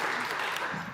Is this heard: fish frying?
no